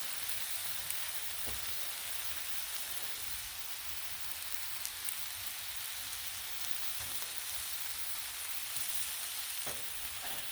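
Sirloin steak sears on a hot griddle, giving a steady, even hiss that carries on unbroken, with a few faint pops and ticks and no voices.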